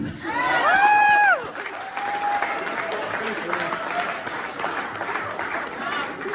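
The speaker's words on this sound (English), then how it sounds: "Let's welcome him in with a big hand of applause" Wedding guests at a roast break into applause and cheering, with a loud whoop and shouts at the start that settle into steady clapping mixed with crowd chatter.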